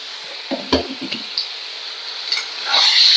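Chopped tomatoes and onion with a pinch of salt frying in a pan for a cashew vegetable dish, with a few close spatula knocks and stirring scrapes over a soft sizzle that swells louder toward the end.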